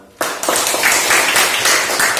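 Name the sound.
classroom applause for students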